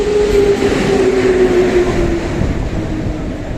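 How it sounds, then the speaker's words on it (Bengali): A train pulling into Kharagpur Junction station: a loud, close rumble with a drawn-out brake squeal that slowly falls in pitch and fades as it slows, with no voices. "এই জায়গায় ট্রেন চলে এসেছে"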